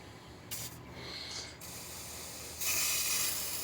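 Short hissing bursts of an aerosol spray can, sputtering on and off, then a longer steady spray near the end.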